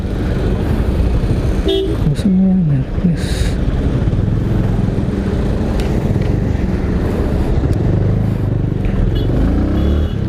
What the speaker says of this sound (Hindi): सो आई थिंक इसलिए यहाँ पे बहुत ट्रैफिक है।